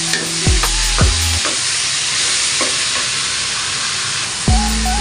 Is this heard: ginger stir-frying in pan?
yes